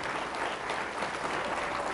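A church congregation applauding in praise of Jesus during a Catholic service, dense, continuous clapping from many hands, steady and even throughout.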